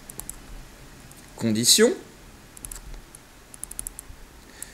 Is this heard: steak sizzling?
no